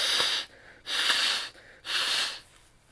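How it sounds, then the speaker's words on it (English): A person blows their nose into a tissue in three forceful, breathy honks, each under a second long with short pauses between, close and fairly loud. "I'm going to blow my nose"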